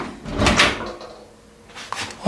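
Newly hung door swinging on freshly fitted hinges: a loud rushing clatter of the door moving early on, a quieter stretch, then a sharp click of the latch or hardware near the end.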